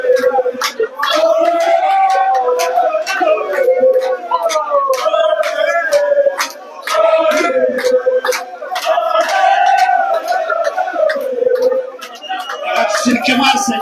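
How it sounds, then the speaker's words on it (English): Pool fans in Uganda chanting for player Kenneth Odong at the Ankole Pool Association Grand Open final, a loud, continuous crowd of voices rising and falling in rhythmic, howling waves with brief dips. "Listen to the chant of the Odong crowd here."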